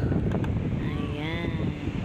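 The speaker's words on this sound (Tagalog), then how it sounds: "sobrang hangin dito" Strong wind buffets the microphone at a beach, a loud steady roar with gusting rumble filling the low end, while a faint whistling tone wavers through the middle.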